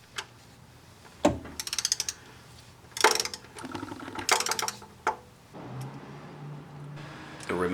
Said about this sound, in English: Once all the bolts are in place, we will now go ahead and torque them down.